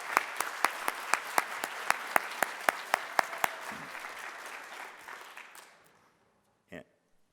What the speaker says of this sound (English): we should give a round of applause for our first round.